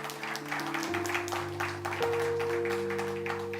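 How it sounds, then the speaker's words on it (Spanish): A church congregation claps for several seconds, soft and diffuse, while sustained keyboard chords ring underneath. "Dele un aplauso al Señor, por favor."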